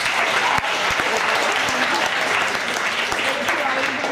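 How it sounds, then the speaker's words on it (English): An audience claps for a volunteer called up at a live improv show, a steady dense round of applause throughout with voices mixed in and a few sharper claps standing out. "Give a round of applause for Chris."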